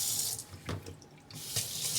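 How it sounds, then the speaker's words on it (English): Hot water runs from a kitchen tap as a bowl is rinsed in the sink, a steady close hiss broken by a couple of splashy surges. "I'll give it a little hot water rinse"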